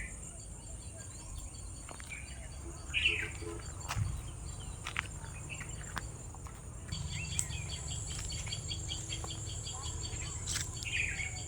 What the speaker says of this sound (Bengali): তো এখানে বিভিন্ন রকম পাখির ডাক শোনা যাচ্ছে।